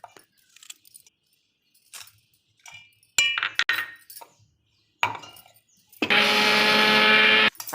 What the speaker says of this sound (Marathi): आता हे मी मिक्सरला मिरची, अद्रक आणि लसूण हे फिरवून घेते.